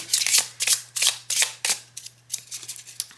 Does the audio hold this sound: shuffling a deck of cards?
yes